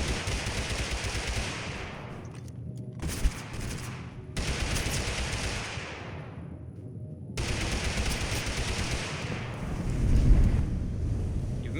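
Rapid gunfire in the video game Totally Accurate Battlegrounds, loud sustained bursts of automatic fire in several long volleys separated by short gaps.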